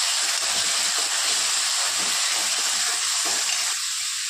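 Tomato drops into browned onions frying in a pan, and a loud continuous hissing sizzle fills the whole stretch with soft stirring movements underneath.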